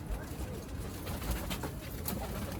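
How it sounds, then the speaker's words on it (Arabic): Squabs and young pigeons of a prolific breeding strain fill a loft with steady, overlapping cooing and soft rustling, moderately loud and close, with no talk. "دي زغاليل فك الريش، شبابات وزغاليل فك الريش برضك ضمن الحمام الغزار"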